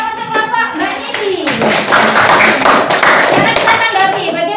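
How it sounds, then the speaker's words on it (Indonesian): A classroom group applauds a student group, with a burst of hand clapping that swells and holds steady, mixed with children's voices murmuring underneath. "beri tepuk tangan untuk kelompok Mbak Nindi"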